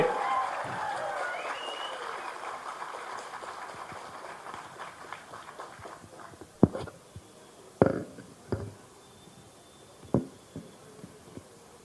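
A crowd at the KAS re-exam protest in Freedom Park, Bengaluru, claps. A dense wash of applause fades over several seconds, then gives way to a few scattered, isolated claps, with voices in the background.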